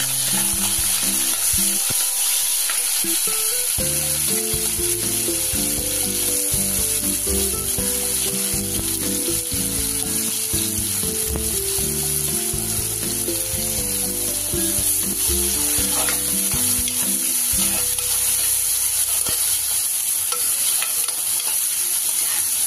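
Onion frying for vegetable daliya, a steady close sizzle in the pan with stirring and scraping running throughout, and a low tonal hum underneath most of the time.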